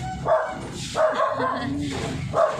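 A dog barks in a few short, fairly close bursts spaced across the moment, with some people talking around them at home.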